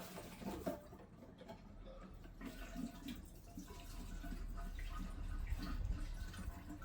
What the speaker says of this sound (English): Let's get some fuel in it